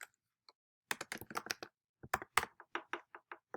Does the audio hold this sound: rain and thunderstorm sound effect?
no